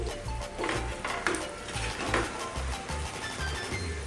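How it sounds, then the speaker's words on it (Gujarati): Potatoes with turmeric and salt are stirred in a pan, a spoon scraping and clinking against the metal in a steady irregular rhythm, close and moderately loud, without speech. "અહીંયા આપણે એકવાર સારી રીતે મિક્સ કરી લઈશું"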